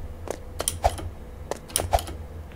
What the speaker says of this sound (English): And this mechanical keyboard is click. It's making a lot of click clack, guys.